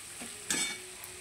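Raw green mango being sautéed in a pan, with a soft stirring scrape and one brief louder sizzle burst in the middle, otherwise a quiet steady hiss.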